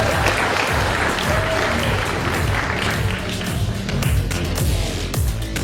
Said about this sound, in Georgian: აპლოდისმენტებით გავახუროთ დარბაზი თუ შეიძლება.